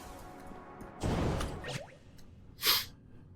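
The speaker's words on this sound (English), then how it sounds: "I've just got a sniffle." A person sniffles twice: a sharp, breathy nasal inhale, then a short second snuffle a moment later, both close and moderately loud against a quiet background.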